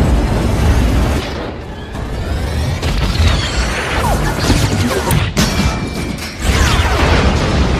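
Loud, continuous rumbling blasts and crashing debris fill the whole stretch, with a sharp crack partway through, like cinematic bomb explosions from an alien ship attacking an old battleship.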